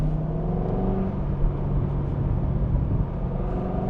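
A Chevrolet Corvette C6 with a 400-horsepower American V8, its engine rumbling and revving in a deep, steady drone for several seconds with no talk.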